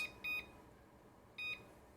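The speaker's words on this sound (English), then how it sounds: "now we're gonna go ahead and set a timer for, let's do like 8 minutes" Kitchen timer being set, giving two short electronic beeps about a second apart, faint and clean with no talking.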